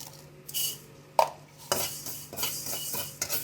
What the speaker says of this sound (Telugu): ఇప్పుడు స్టవ్ మీద ఇలా కడాయిని పెట్టుకొని దాంట్లో రెండు స్పూన్ల వరకు మెంతుల్ని యాడ్ చేసుకోండి